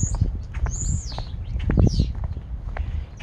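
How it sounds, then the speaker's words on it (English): Birds chirp outdoors in front of a building, with several short high calls and sweeping tweets scattered over low rumbling footsteps and outdoor background noise. "hear all the birds talking"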